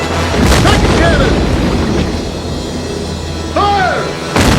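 Cannon fire aboard a Civil War ironclad warship in a battle film, heavy booming blasts over a continuous roar of battle, with shouted orders and whistling shells sweeping past.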